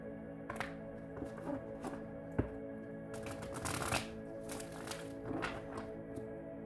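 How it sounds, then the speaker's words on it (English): Tarot cards shuffled by hand in repeated riffling, slapping bursts, close and clear, with a soft thunk of the deck tapped down between shuffles over a quiet background hum. "we'll continue to shuffle and get some clarity and see what the cards can clarify for us"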